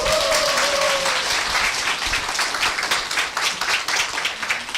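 A seminar audience at a Korean sales training session breaks into applause, a dense, loud burst of clapping that thins slightly toward the end, with a faint tone at the start.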